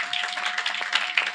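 Congregation clapping hands during a church service, a steady run of overlapping claps at moderate level with faint voices underneath.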